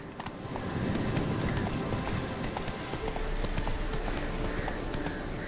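A horse's hooves clip-clop in The Witcher 3 at a steady, even gait, moderately close and continuous, with no talk over it.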